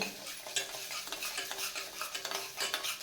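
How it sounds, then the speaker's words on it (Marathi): A spoon stirs sugar into melting butter in a pan over low flame, giving quick, repeated scraping swishes with a soft sizzle beneath, close and continuous. "आता ही आपल्याला साखर पूर्ण या बटरमध्ये विरगळवून घ्यायची"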